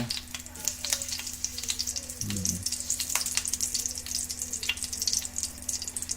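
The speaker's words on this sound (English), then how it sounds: "the butter looks like it's getting a little brown. I want to see if it's ready. You're getting a sizzle" Butter sizzles and crackles steadily in a hot pan, with a faint low hum in the background and a brief clunk partway through.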